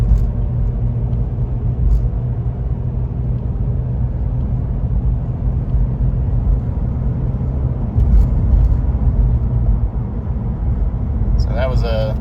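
Steady, loud engine drone inside a 1996 Isuzu Trooper with an automatic transmission, holding a deep rumble as it moves from third to fourth gear, with a brief voice near the end.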